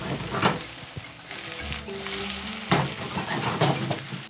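Red pepper flakes sizzle in a hot pan for a spicy tomato and pepper sauce, a steady frying hiss with bursts of stirring and scraping, close up and without talk.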